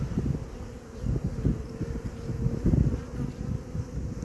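Dense, continuous low buzzing of a honeybee swarm clustered on a tree in spring, bees fanning, close to the microphone with steady swelling and fading hum and no voices.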